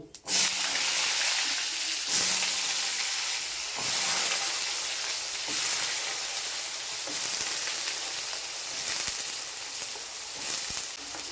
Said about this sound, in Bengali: আমি এবার আলু কুটে রেখেছিলাম ডুমডুম করে ওটা আমি ভেজে নেব